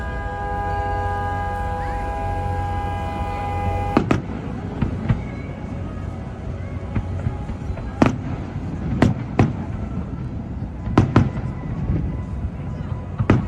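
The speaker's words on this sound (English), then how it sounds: "The fireworks at Epcot are going off." Epcot fireworks booming at a distance, heard from a resort dock, with sharp cracks and deep rumbling bursts at irregular intervals over a steady outdoor crowd murmur.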